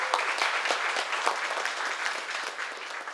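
Audience applause at a film festival Q&A session, dense continuous clapping from a crowd, loud and steady throughout.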